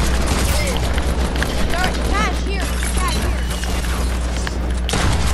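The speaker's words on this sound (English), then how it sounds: "I just got sniped." Sniper gunshot in a video game, a loud dense burst of firing and explosions that fills the whole moment, with speech underneath throughout.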